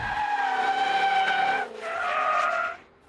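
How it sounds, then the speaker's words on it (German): Tires squealing as the rear of a Jaguar F-Type slides out, two sustained tonal skids in a row, the second briefly interrupted, fairly close and with no talk over them. "Und wenn das Heck ausbricht."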